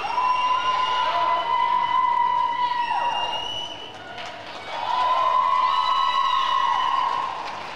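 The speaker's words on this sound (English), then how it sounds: "lots of people cheering." Crowd cheering and encouragement at a girls' varsity high school swim meet, a sustained indoor roar with whistles and shouts and a brief dip midway, talk over it.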